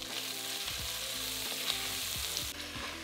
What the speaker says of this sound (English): Turn the heat down to medium and add in a large diced onion.